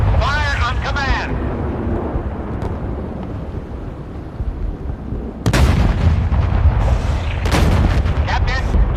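Warship guns fire in the naval combat game Force of Warships, deep booming blasts that rumble continuously with sharper reports near the middle and end, layered under game radio voices speaking.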